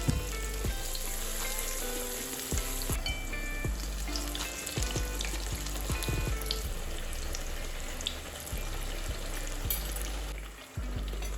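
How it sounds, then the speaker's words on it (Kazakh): Eggplant slices fry in a pan of hot oil, a steady dense sizzle and crackle throughout with brief shifts and clinks as pieces are laid in and turned. "қызып тұрған майда баклажандарды рет-ретіне сала отырып, екі жағын қызарта қуырып аламыз"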